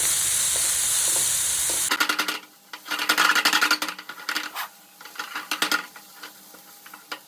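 Onions sizzle in a pan after ginger and garlic for a squid masala fry, with a steady hiss at first. Then comes irregular crackling and the scrape of a spatula as they are stirred.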